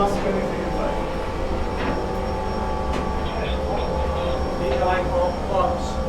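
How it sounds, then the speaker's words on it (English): Pumps and generators run in the engine room of a 1998 Amels 54-metre superyacht, a steady dense machinery drone with tonal hum, loud and continuous throughout. "These are pumps and generators."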